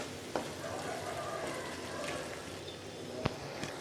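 Onion, tomato and masala for a restaurant-style mushroom masala sizzle softly and steadily in a pan, with a couple of sharp clicks of a spoon against the pan.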